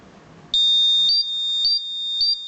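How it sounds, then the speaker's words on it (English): Buzzer alarm of an ultrasonic obstacle sensor triggered within 10 cm, a steady loud electronic tone with three short chirps layered on top, sounding alone. "once the obstacle is being detected within 10 centimeter, we'll get an buzzer alarm"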